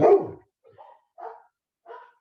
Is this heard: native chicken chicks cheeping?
no